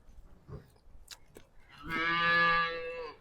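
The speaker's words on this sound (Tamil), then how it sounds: "பசியில் கத்துது மாடு" A hungry cow gives one long, loud, resonant moo that swells and holds for over a second, after a few quiet rustles and shuffles.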